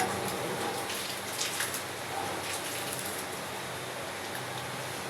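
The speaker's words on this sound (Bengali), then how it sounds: "বন্ধুরা বাইরে কিন্তু বৃষ্টি হইতেছে।" Steady rain falls outside, a soft, even hiss of drops that runs unbroken throughout at low volume.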